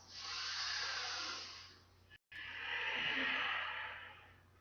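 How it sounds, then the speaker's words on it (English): Loud, deliberate breathing during a flexibility and stretching workout: a long rushing exhale, a brief silent gap, then another long forceful breath, close and prominent with no talking. "I'm trying to breathe extra super loud today."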